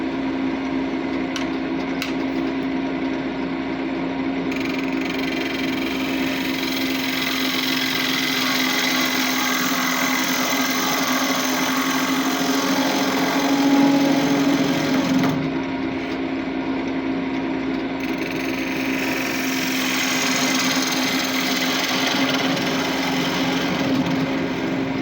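Wood lathe spinning wood stock while a gouge hollows out the inside, a steady whirring drone with a constant hum and scraping cutting noise that shifts slightly as the tool works, no talking.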